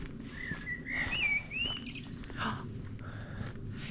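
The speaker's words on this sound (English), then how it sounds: "See, I now know off the back of that app that is without a doubt a blackbird." Blackbird singing outdoors, a clear melodic whistled phrase with a few rising and falling notes over steady ambient background noise, fairly near, followed by fainter calls.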